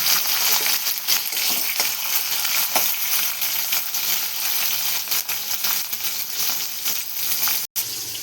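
Chillies and tomatoes sizzle steadily in a hot pan after cumin, a dense, even crackle that fills the whole stretch, with a few soft clicks and one brief break near the end.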